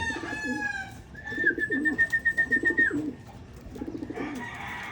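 Pet pigeons coo nearby in repeated rhythmic bursts of soft, throaty pulses, several phrases in a row, with a long whistle-like tone drifting across the middle.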